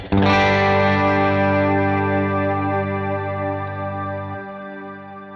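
A bass guitar note struck once and left to ring through a Strymon BigSky MX reverb pedal, Bloom on the right and spring on the left, wide and shimmering with lush reverb and modulation, slowly decaying over several seconds.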